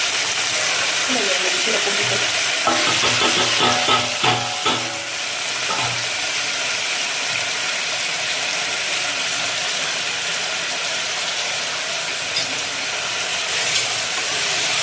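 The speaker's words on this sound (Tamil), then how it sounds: "இதெல்லாம் வதங்கட்டும். வதங்கிட்டே இருக்கு." Ingredients for a mutton head curry sautéing in a pan, heard as a steady close sizzle with a burst of scraping, stirring clatter early on before the frying settles into continuous hiss.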